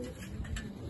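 A Sialkoti pigeon coos softly and briefly, a low murmuring call close by with a faint steady background.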